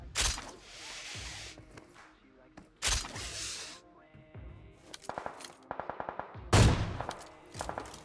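Gunfire in PUBG Mobile: several bursts of rapid automatic shots with a few single cracks in between, loud and close, separated by short quiet gaps, with a voice talking at moments.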